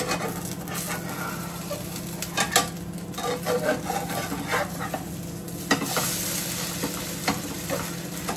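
Food frying in an oiled pan over a medium flame in a home kitchen while ghee is prepared, a steady soft sizzle with occasional scraping and stirring noises, close and continuous, with no speech.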